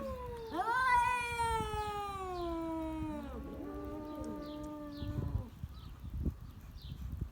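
A female cat in heat caterwauls in long, drawn-out, wavering yowls, loud and close, the first cry sliding downward and a second following. Softer chirps sound behind it, and faint rustling and knocks come near the end.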